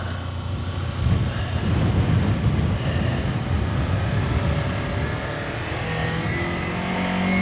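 Motorcycle accelerating in first gear through a slalom training course, engine note rising and holding as it pulls away, close and loud with steady rumble and no talking.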